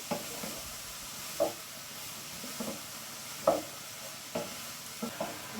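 Beetroot curry being stirred in a frying pan, a soft continuous sizzle broken by regular scraping strokes of the spoon about once a second, fairly quiet and close with no voices.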